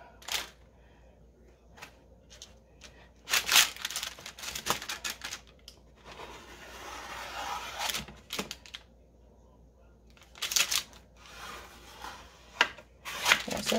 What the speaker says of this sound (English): I'm supposed to use a knife or a cookie cutter, but I'm using my dough scraper.